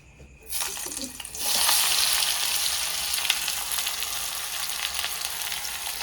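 Onions drop into hot oil in a pan and set off a loud, steady sizzle that swells after a short lead-in and carries on evenly to the end, with no talking.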